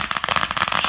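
Firecrackers and fireworks going off during a firework weekend, a rapid close crackle of many small pops packed into about a second.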